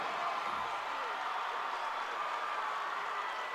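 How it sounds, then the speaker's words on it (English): A packed crowd roars and cheers inside the U.S. Cellular Center during a tied state high school volleyball quarterfinal, a continuous, dense wall of arena noise. "Listen to this crowd. It's going crazy inside the U.S. Cellular Center"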